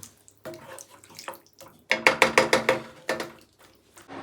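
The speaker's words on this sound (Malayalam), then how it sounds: "അതിലേക്ക് നമ്മൾ വെള്ളം ചേർത്ത് കൊടുക്കുന്നുണ്ട് ഒന്നര കപ്പ് വെള്ളം നമ്മൾ ചേർത്ത് കൊടുത്തു" Water is poured into a cooking pot while making veg kurma, heard as a run of splashy, gurgling glugs in quick succession after a few scattered knocks, close and fairly loud with no voices.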